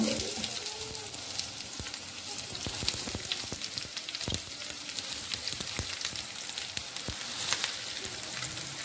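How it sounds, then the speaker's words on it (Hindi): Chopped onions fry in a pan with a continuous close hiss and sizzle, scattered sharp pops and crackles throughout, and no voices. "अनियन को मैंने काट लिया है, इनको मैंने डालना है इस फ्राई पैन में"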